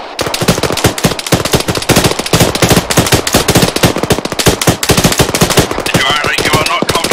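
Sustained automatic gunfire in the military shooter Arma 3, with rapid loud bursts of shots rattling almost continuously at close range and barely pausing.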